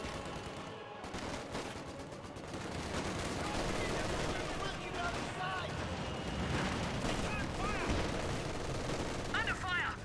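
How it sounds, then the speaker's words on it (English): Company of Heroes 2 battle gunfire crackles in dense, continuous bursts of rifle and machine-gun fire, with booming impacts mixed in, rising louder after the first couple of seconds and staying busy throughout. "Under fire! Enemy squad has us targeted!"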